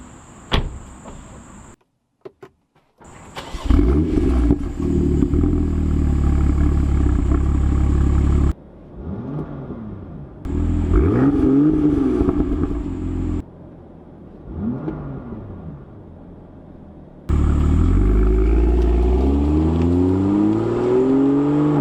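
A 2018 BMW M2 F87 engine starts with a sharp bark, then revs in several loud, rising and falling bursts separated by brief idle pauses, close up with no talking.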